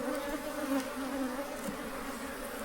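Steady, dense buzzing of many honey bees swarming close by around an open hive frame, a continuous drone with no voices.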